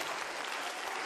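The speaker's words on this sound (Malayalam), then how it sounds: "വിശ്വസിക്കുന്നവർ കരമടിച്ചൊന്ന് സ്തുതിച്ചേ" Congregation at a 2013 Christian convention in Karimban applauding, a dense, steady burst of many hands clapping together, close and loud throughout with no speech.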